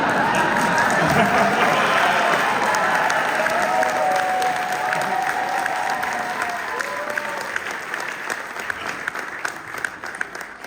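Audience at a Dallas reunion panel with Patrick Duffy, Linda Gray and Priscilla Presley claps steadily and loudly, a dense sustained round of applause that slowly thins toward the end, with a few whoops and voices mixed in.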